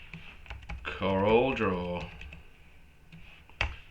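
Computer keyboard typing into the text tool of CorelDRAW 2021, a few sharp clicks scattered through the clip, one louder near the end, with someone talking over much of it.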